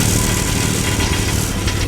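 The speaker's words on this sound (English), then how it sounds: "I actually think it might just be an exhaust leak" A Toyota Land Cruiser 100 engine runs with a suspected exhaust leak, giving a loud, steady idling chug and a raspy puffing texture close to the engine bay, without speech.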